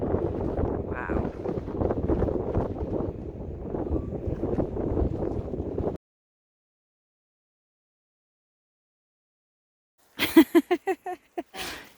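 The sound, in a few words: wind blowing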